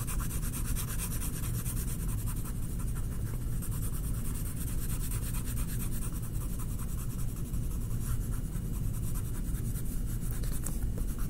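A pen or marker scratches steadily over paper, tracing pencil lines on a cartoon drawing in black, the close, continuous rubbing strokes filling the quiet.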